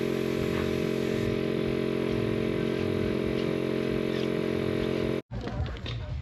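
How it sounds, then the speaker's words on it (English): Motorcycle in neutral with its back wheel spinning while the rim is cleaned, giving a steady mechanical whir and rattle close by that cuts off abruptly near the end, followed by brief clattering handling sounds. "you can spin the back wheel while you clean the rim"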